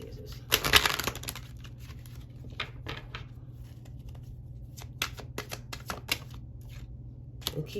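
Tarot cards shuffled by hand, with a loud riffling burst near the start followed by scattered light flicks and taps of cards over a low steady hum.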